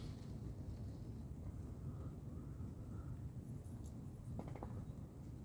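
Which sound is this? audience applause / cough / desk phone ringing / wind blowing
wind blowing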